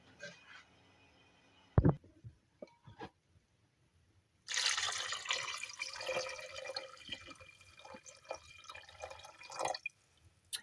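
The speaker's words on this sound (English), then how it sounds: "And now we add the water." Water pours steadily into a pot for several seconds after a brief clatter and a few small knocks, close by with no talking.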